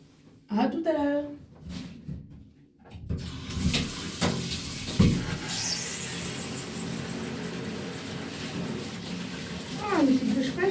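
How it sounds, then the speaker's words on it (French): Water from a shower streams steadily and close for most of the stretch, a broad continuous hiss that begins after a short spell of clattering and a voice, with brief talk returning near the end. "Ah, une petite douche fraîche, ça fait du bien."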